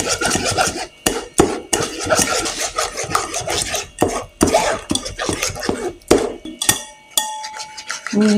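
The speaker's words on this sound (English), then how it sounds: "I'm just going to run it through the sieve using my wooden spatula" Eggless lemon curd is pressed through a sieve with a wooden spatula, giving loud, close, rasping scrapes in repeated strokes separated by short pauses.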